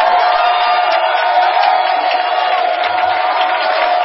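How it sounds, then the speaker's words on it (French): Church congregation cheering and acclaiming God in a steady, loud roar of many voices, sustained throughout with no pauses. "Acclame puissamment ton Dieu."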